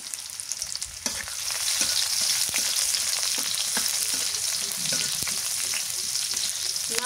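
Crushed garlic and chopped onion fry in a pan until reddened, a loud, continuous sizzle broken by repeated scraping stir strokes, with no voices.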